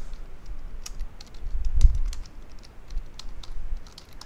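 Fingers type C code on a computer keyboard, giving a quick run of close, light key clicks with one heavier thump partway through and no talking.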